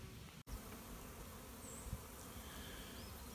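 A dense, steady buzz of many honey bees flying around a hive box after a night-time swarm capture, continuous and fairly close with no talking.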